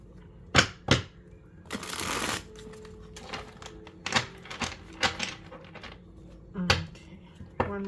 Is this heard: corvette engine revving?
no